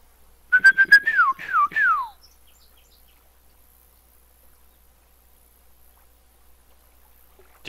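A person whistles a short run of bird-like calls, several quick rising-and-falling chirps close to the microphone, then quiet; the whistler is imitating birdsong while fishing.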